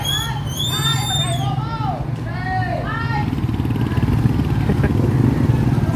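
Motorbikes at a parking area on a trip from Iloilo City to Guimaras Island rev and pass close by with a steady engine drone, while people talk over the noise.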